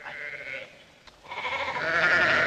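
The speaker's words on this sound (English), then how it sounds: "No, those are sheep." Sheep bleating in a film scene, a couple of wavering nasal calls with a short gap between them, fairly close and clear with no talk over them.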